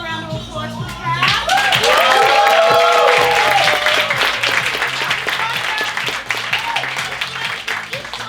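A theatre audience claps and cheers for a cast member named Kat after a stage show, with loud, dense applause that rises quickly, holds and then slowly thins, with excited voices and music beneath it.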